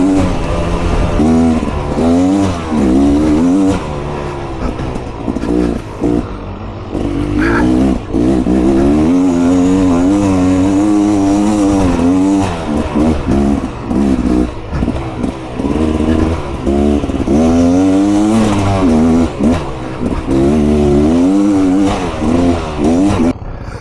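A Stark Varg electric MX motorcycle is ridden hard off-road. Its loud motor whine rises and falls continuously as the rider accelerates and eases off, with rattling from the chassis and terrain.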